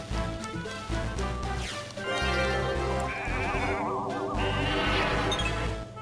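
Loud, dense game sound from the Sheep Count ability in Final Fantasy Tactics Advance, with bleating sheep calls over a layered musical and effects backdrop running steadily for several seconds.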